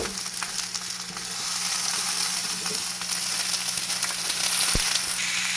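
Mixed vegetables for a Sindhi mix masala sabzi fry steadily in a pan after peas are added, a dense continuous sizzle with a few scraping stirs, close and alone.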